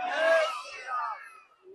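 A crowd at a large Hindu gathering shouts a devotional chant in unison, a loud burst of many raised voices that swells early and then fades over under two seconds.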